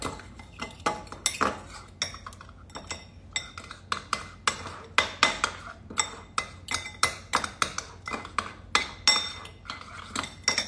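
Aioli being stirred in a bowl, a spoon clinking and scraping against the sides in a quick irregular rhythm of sharp metallic taps, close and fairly loud.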